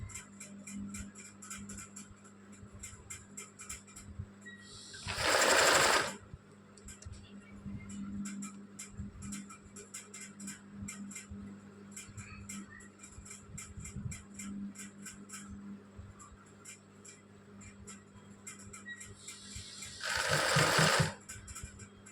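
Sewing machine stitching woolen thread embroidery, its needle running in a steady rapid ticking rhythm throughout, with two louder bursts of faster stitching standing out near the start and end.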